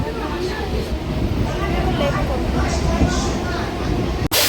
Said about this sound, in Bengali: আটটা দুই আগে গোলা থেকে ট্রেন চললো